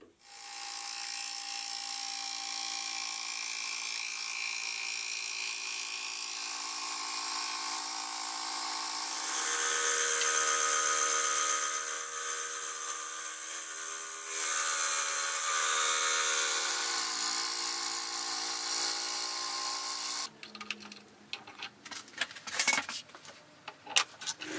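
A milling machine cutting aluminium gives a steady high-pitched tonal whine with rich harmonics that shifts pitch partway, then breaks into irregular clattering and chip noise near the end, close and continuous with no talk.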